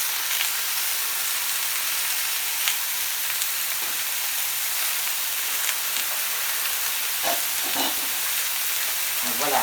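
Vegetables sizzle steadily on a hot plancha before meats are added, a dense, even hiss of frying that holds at close range the whole time with faint clatter near the end.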